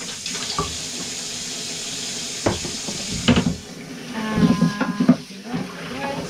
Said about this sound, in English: I will give it a proper rinse, a proper wash.